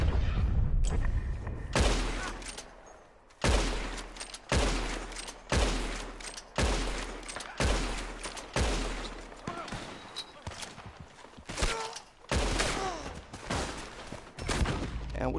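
Bursts of video game gunfire aimed at the player, loud volleys of repeated shots in about a dozen clusters with brief gaps, someone talking over some of them.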